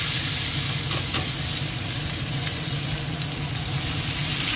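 Potato pieces frying in hot oil in a pan after eggs were fried, a steady dense sizzle close up that runs without a break, with faint stirring scrapes and no voices.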